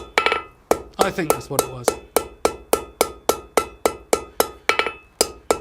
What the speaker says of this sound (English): You've got to be very precise with your hammer strokes there